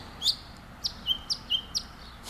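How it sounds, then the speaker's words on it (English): Bird chirping outdoors near an old 2002 Ford F-150 pickup, a series of about five short, sharp tweets spaced roughly a quarter to half second apart, moderately close and clear over quiet background. "That bird's been harassing me."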